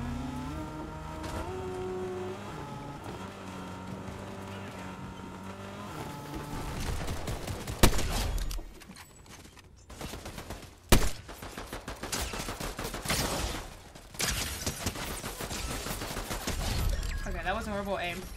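Sniper and gunfire shots in the video game Fortnite, several sharp bangs ringing out over steady game music and engine-like noise, with a voice talking at times.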